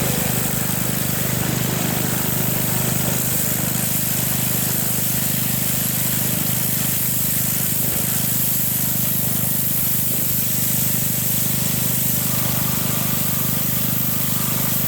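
A Sears Craftsman 2500 psi pressure washer powered by a Briggs 6.5 hp OHV engine runs continuously, giving a loud, steady engine drone with a constant hissing spray for the whole stretch.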